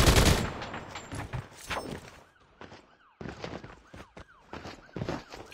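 Rapid gunfire bursts and cracks from a Call of Duty search-and-destroy raid match, loud at first then repeated volleys with short gaps, close and sharp against a busy battle background.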